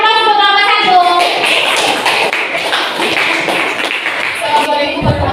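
Students in a classroom applaud a presenting group, a dense, steady patter of many hands clapping together at close range for several seconds, with a few voices rising near the end.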